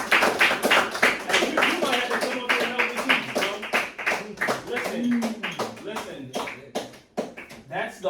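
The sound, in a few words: students clapping for a classmate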